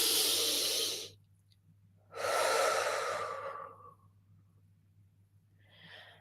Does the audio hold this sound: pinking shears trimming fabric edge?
no